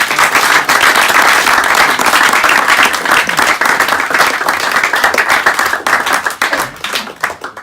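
A conference audience bursts into loud, sustained applause, dense clapping holding steady for several seconds before thinning and tapering toward the end.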